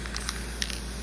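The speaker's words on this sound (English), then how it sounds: "So I have this spray paint that I got from Martin's." A can of spray paint sprays in short hissing bursts, several quick puffs in about a second, fairly close and not very loud, over a low background hum.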